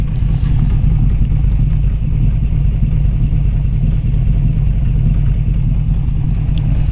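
A 1933 Ford Cabriolet all-steel resto-rod with a 350 engine running at idle, loud close rumble with a steady low throb and light clatter, no voices.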